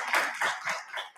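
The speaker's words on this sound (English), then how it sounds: "A round of applause for our panelists." Applause from an audience honouring church event panelists, a steady patter of many hands clapping for about a second, fairly close and unbroken.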